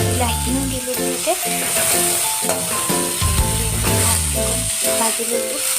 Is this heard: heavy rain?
no